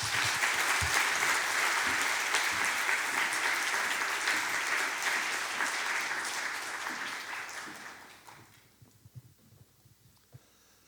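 Audience applause following a church talk, with a crowd clapping loudly and steadily for about eight seconds before tapering off into scattered claps and quiet room noise.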